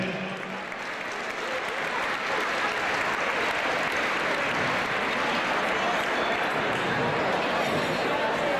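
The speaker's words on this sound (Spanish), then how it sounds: "Fuerte el aplauso para él" Applause from a crowd at a Semana de Asturias event, a dense, steady wash of clapping that holds at full strength for the whole stretch, loud and close, with a voice briefly heard under it.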